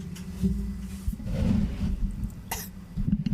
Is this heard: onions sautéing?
no